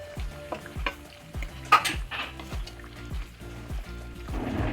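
A fried bhetki fish head being stirred into a simmering curry with potatoes, a spoon scraping the pot in a steady rhythm over a soft bubbling sizzle, close and moderately loud, with no voices.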